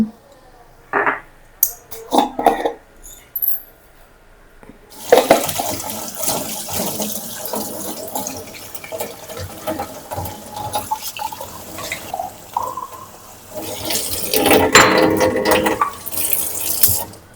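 Kitchen containers are washed under a running tap, with a steady loud stream of splashing water after a few quiet clinks and knocks, briefly swelling louder near the end.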